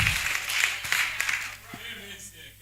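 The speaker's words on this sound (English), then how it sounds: "Please, a round of applause for them." Scattered clapping from a conference audience at a New Year School gathering, moderate and brief, fading out under a speaking voice over a PA.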